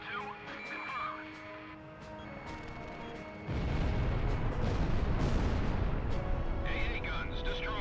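Anti-aircraft gun emplacements blow up in the air-combat game Ace Combat: a sudden loud, rumbling blast swells in and holds as a dense roar over engine drone and a voice talking underneath.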